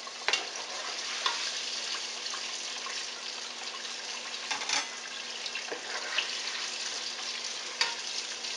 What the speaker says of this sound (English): now I'm gonna go ahead and remove my fish from the grease